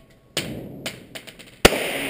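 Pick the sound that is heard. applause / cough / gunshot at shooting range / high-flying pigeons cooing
gunshot at shooting range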